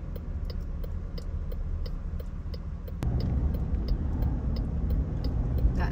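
A truck engine idling at a stoplight, a steady low rumble with a faint regular ticking on top, growing a little louder and rougher partway through, close and continuous with no talk.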